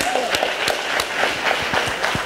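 Applause at a school launch event welcoming a speaker, with distinct sharp claps standing out above a steady wash of clapping from the audience.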